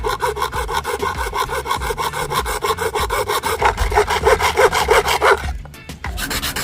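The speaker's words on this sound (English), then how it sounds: "prepare a 3/4-inch PVC pipe and cut it to a length of 5 centimeters" A 3/4-inch PVC pipe being sawn by hand, a close rhythmic rasping stroke repeated quickly and evenly for several seconds before stopping, then a few light handling sounds.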